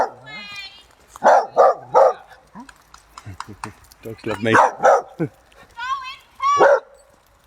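A small dog yaps repeatedly in quick, loud bursts close by during a Christmas Day walk on a common, with people talking over and between the barks.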